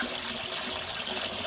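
Water running steadily into an engine cooling system on a boat, a continuous soft gushing and trickling stream heard close up with no talk over it.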